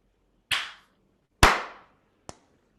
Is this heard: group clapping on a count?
yes